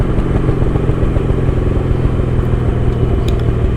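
A Triumph TR6 sports car at full throttle racing toward the finish line of a sprint at Mallory Park, a loud, close, continuous engine roar.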